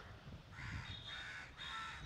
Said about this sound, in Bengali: এখানে কত রকম পাখির ডাক শোনা যাচ্ছে